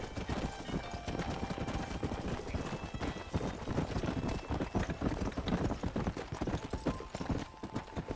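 A horse gallops in the Red Dead Redemption video game, its hooves pounding out a rapid, continuous clip-clop rhythm up close, with faint background voices now and then.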